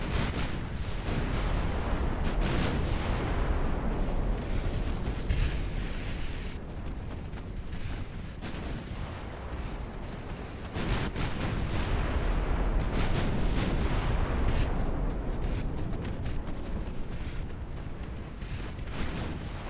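Heavy battleship naval guns firing in a steady barrage, distant booming blasts and rumbling reports overlapping in a dense, continuous roar of battle with no voices.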